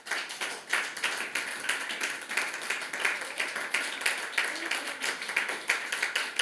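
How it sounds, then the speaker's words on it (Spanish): A church congregation applauds during a service, with brisk, uneven rhythmic clapping from many hands that carries on steadily at a moderate distance. "un aplauso al Señor"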